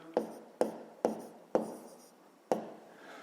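A pen taps and scratches on paper while a math answer is written down, five sharp marks in an uneven rhythm, close and quiet, with no talk.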